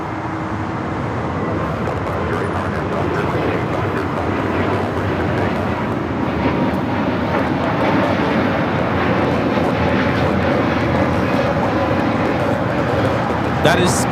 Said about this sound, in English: That is Spirit Airlines 754 taking off to New Orleans on the A320neo